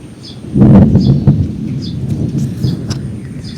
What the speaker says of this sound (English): Looks like you guys are going to get serenaded by some thunder today.